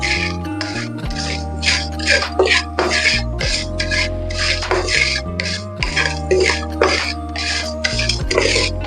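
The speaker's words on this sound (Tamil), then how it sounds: "உப்பையும் நம்ம சேர்த்து டோஸ்ட் பண்ணிக்கலாம்" Salt for mango pickle toasts in a pan while a utensil stirs it in repeated rasping, scraping strokes, close and continuous over soft background music.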